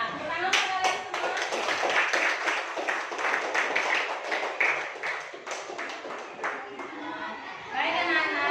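Schoolchildren clap together in a classroom, a steady dense patter of many small hands lasting several seconds, with a few voices chattering over it and a brief burst of talk near the end.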